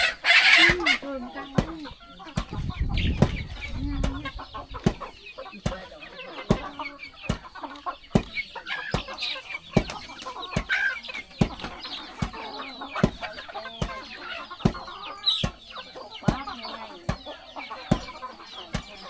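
Chickens cluck and call on a rural farm in Laos, with one sharp burst near the start and then repeated softer clucks over a steady run of clicking taps.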